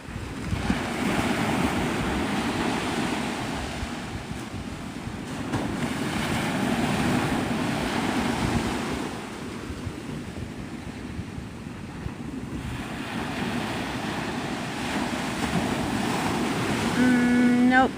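Ocean waves breaking on the shore at Navarre Beach, Florida, at sunrise: a continuous broad surf roar that swells and eases in slow cycles, with wind rushing across the microphone and no voices.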